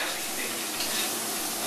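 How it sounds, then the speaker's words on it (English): Garlic toasts in a pan with a bright, close, continuous sizzle and light stirring scrapes, steady and unbroken for the whole stretch. "I'm going to start with my garlic because I kind of want my garlic kind of toasted and roasted in the pan."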